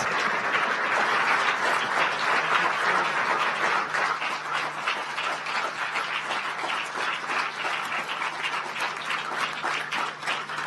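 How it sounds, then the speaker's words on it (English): Sustained applause from an audience at a campus inauguration ceremony in Kigali, honouring the president as he takes his seat; dense, even clapping fills the whole stretch with no talk over it. "Please give a round of applause to the President as he takes his seat."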